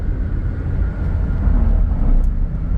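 Toyota Innova Crysta BS-6 diesel engine with an overhauled engine, heard from inside while driving at speed: a steady, close, low rumbling drone with road noise, no talking.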